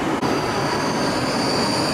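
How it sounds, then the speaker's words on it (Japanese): A Tohoku Shinkansen deadhead train rolls in toward platform 21 at the station, a loud, steady rumble of rail and wheel noise that holds evenly throughout, with no voices. "その代わりにもう1本向こう21番にもう1本回送列車がやってくるようです"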